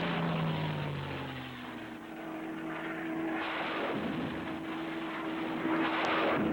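A P-51 Mustang propeller fighter plane flies past, a broad droning roar with a low engine tone that shifts in pitch, steady and moderately distant, with no voices.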